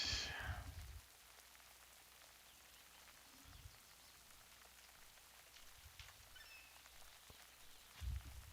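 Rain falls in the World of Warcraft video game as a quiet, steady patter of drops, with brief low thumps near the start and end and a faint voice briefly audible.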